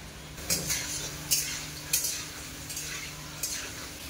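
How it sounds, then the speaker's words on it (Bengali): Potato strips frying in oil in a kadai, a steady soft sizzle with a few clinks of a utensil against the pan at intervals, no talking. "এখন তো আলু ভাজা হচ্ছে"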